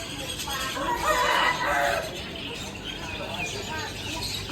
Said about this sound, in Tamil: கோழி